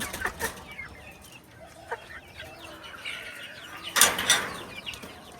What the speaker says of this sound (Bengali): এখানে হচ্ছে মূলত মুরগি রাখা আছে